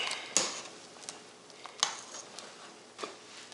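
A few sharp metallic clinks and clunks, spaced irregularly, like a utensil knocking against a pot while mashing muscadine grapes in boiling water, over a faint background hiss.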